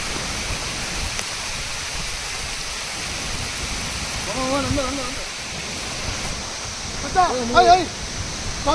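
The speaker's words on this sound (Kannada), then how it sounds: "ಮಳೆ ಜಾಸ್ತಿ ಆಯ್ತಲ್ಲ" Heavy rain pours steadily on a hill-country trip in Chikkamagaluru, a dense, continuous hiss throughout, with brief voices breaking through near the middle and end.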